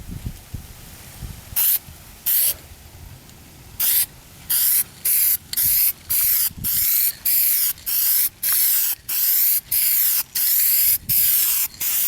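Spray paint sprays in light coats onto car trim molding, a run of short, loud hissing bursts in a steady rhythm, each about half a second long, separated by brief pauses.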